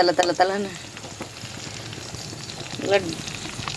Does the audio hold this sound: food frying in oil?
yes